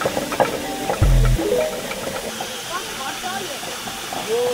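A water-powered mill for grinding maize in a remote hill village runs with a constant rushing, hissing water noise, with a brief low knock and faint voices in the background.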